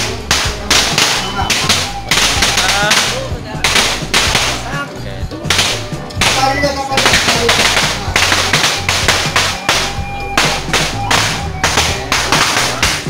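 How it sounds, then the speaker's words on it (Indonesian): Firecrackers set off in a village welcome tradition, a dense loud string of sharp bangs and crackles going almost continuously, with voices faintly mixed in. "disambutkan sama petasan ya sahabat-sahabat ya"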